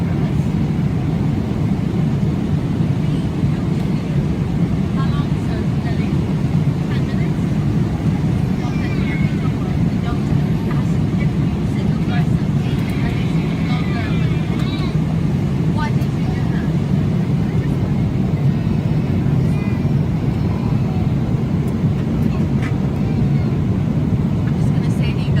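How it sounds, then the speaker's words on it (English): Steady low roar inside a Boeing 777 airliner cabin on approach to land in Dublin after the flight from Dubai, a constant dense rumble with no breaks, heard close and unchanging for the whole stretch. "The journey from Dubai to Dublin took another 8 hours and was on a 777"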